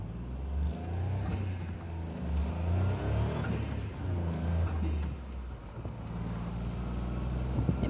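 A Caterham Super 7 600 kit car with an 84 bhp engine, revving and pulling through the gears with a throaty, mid-pitched drone that rises and falls in several surges. Fairly close and loud, with no exhaust roar and no talk.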